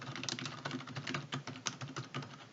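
Computer keyboard typing with the Enter and Tab keys pressed while entering table data in an Excel spreadsheet, giving a steady run of close, light clicks and keystrokes with no voices.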